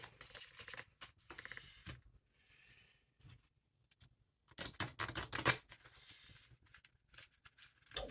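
Oracle cards for a Lenormand reading being drawn and handled, with soft shuffling and snapping card sounds in short bursts, a louder flurry midway, close and quiet with no talk.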